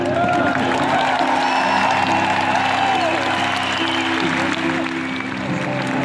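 Spontaneous crowd applause and cheering rise from a large arena audience at a concert at the O2 in London, loud and continuous, with tonal music or voices running through it.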